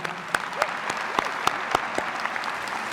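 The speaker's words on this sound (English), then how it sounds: "Let's give her a round of applause." Round of applause at a high school graduation ceremony for Nebraska's Secondary Principal of the Year, with sharp individual claps standing out above a steady wash of clapping throughout.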